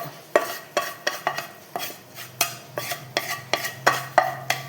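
Roasted coconut is scraped from a pan into a bowl with a metal spoon, giving a quick series of sharp clinks and scrapes in an uneven rhythm, close and fairly loud with no talking.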